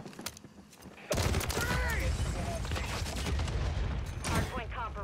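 Gunfire in Call of Duty Modern Warfare 3: a sudden heavy fusillade of rapid overlapping shots, sustained and loud, with voices and radio chatter mixed in.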